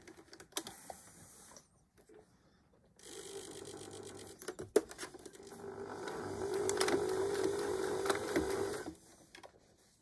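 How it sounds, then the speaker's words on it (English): A sewing machine runs zigzag stitches on a jeans patch, its rapid mechanical chatter coming in bursts of several seconds, separated by short pauses and clicks, fairly close. "I'm going to use a zigzag stitch"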